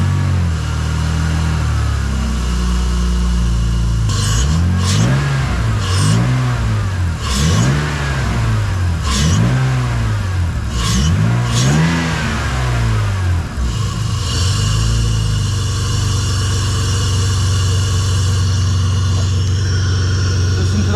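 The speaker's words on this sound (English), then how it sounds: "start the car, and give it a few revs." A BMW E46 drift car with a DIY cold air intake revs hard about half a dozen times in quick succession, each rise and fall loud and close with strong induction noise, then settles back to idle.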